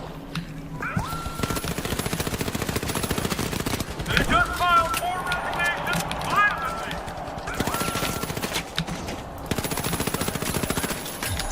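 A video game weapon fires in long, fast automatic bursts, loud and close, broken by short pauses and a few sharper impact sounds, with a voice talking at times over the shooting.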